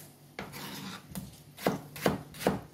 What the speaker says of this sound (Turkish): Domateslerimizi de küp küp.